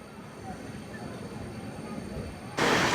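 Chennai Central–Coimbatore Intercity Express at night: a low, steady rumble of rolling wheels builds, then a sudden loud broadband rush hits near the end as the train sweeps past close by.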